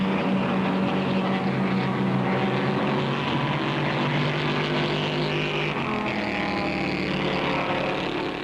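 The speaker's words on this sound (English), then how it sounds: "He guns his Lotus Ford, catches Surtees' new prototype Ferrari, and passes him, hitting better than 180 miles an hour" A Lotus Ford and a prototype Ferrari race flat out at Daytona at around 180 mph, their engines blending into one loud, sustained droning roar with a slowly shifting pitch and no talk over it.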